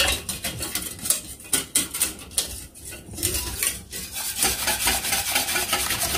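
A whisk clatters and scrapes steadily against a bowl, breaking up lumps in flour, with rapid, busy clinking that carries on throughout at moderate loudness.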